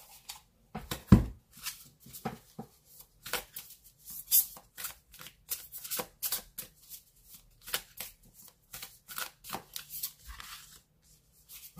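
Tarot cards are shuffled before a draw, giving quick, crisp riffling and slapping bursts in an irregular rhythm, close and fairly quiet, with no talk.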